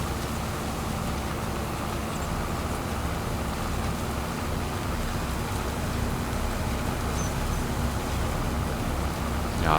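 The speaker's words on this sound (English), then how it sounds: "Unless the rain, they're not supposed to work in the rain." Rain falls steadily in the farming video game Farming Simulator 25, an even hissing patter with a low rumble beneath, unchanging throughout at moderate loudness with no one speaking.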